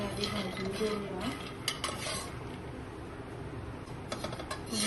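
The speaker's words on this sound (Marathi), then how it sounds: "मंद आचेवर हे मखाने आपण हलके ब्राऊन होईपर्यंत भाजूया।" Makhana fox nuts dry roasted in a pan without ghee over low heat, stirred with a utensil, giving soft scraping and rustling with occasional light clinks against the pan.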